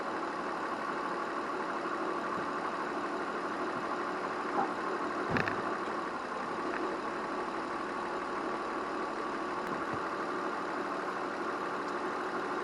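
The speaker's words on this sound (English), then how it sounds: "Run it through the gears again." A vehicle engine runs steadily at idle while the transmission, freshly refilled with fluid after an oil and filter change, is shifted through its gears, with a couple of faint clunks from gear engagement over the constant low hum.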